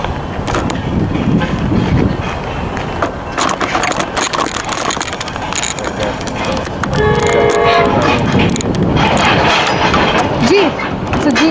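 A train passes close and loud at Deerfield Beach station, sounding its horn over a heavy rumble and the rattling clatter of railcars. Voices talk faintly underneath.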